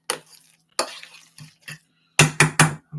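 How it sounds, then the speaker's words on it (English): Onions stirred in a pot, a series of separate close scrapes and knocks of a spoon against metal, a few spaced strokes then three quick loud ones near the end, no speech. "give it a little stir"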